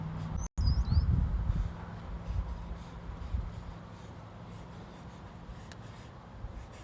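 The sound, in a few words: drawing on paper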